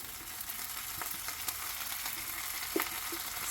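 Spam fried rice ingredients sizzle in a pan while being stirred and tossed, a steady close frying hiss with scattered scraping clicks of the utensil and no talk.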